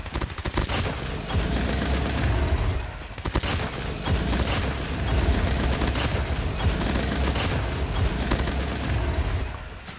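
Sustained automatic fire from a PDW-57 submachine gun shot from the hip in Call of Duty Mobile, a dense rattling stream of close, loud shots with brief pauses and mechanical clatter throughout.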